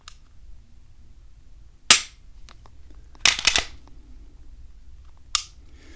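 The Apex aftermarket trigger on a Gen 3 Glock pistol gives a few sharp, close mechanical clicks: one single snap, then a quick cluster of clicks, then one last click, each separated by quiet pauses.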